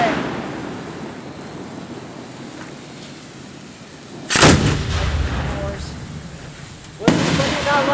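Fireworks at a ground-view display in Simsbury, Connecticut: two heavy booming shell bursts a few seconds apart, each with a sharp onset and rolling echo, over a steady outdoor background of wind and distant crowd murmur.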